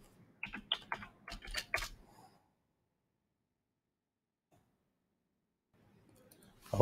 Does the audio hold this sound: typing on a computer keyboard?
yes